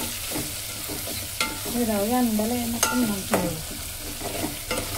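Egg and dried fish curry being stirred in a pan, a steady sizzle and bubbling with scraping stirs and a few metallic knocks.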